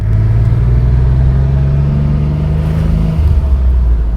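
Porsche 911 SC engine pulling away, a loud close rumbling drone whose pitch climbs steadily as it accelerates and then drops back near the end, with no voices.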